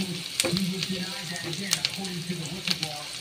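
Corned beef sizzling in a pan with butter, garlic and onion for a shepherd's pie, a steady hiss and crackle with occasional sharp pops and utensil clicks throughout.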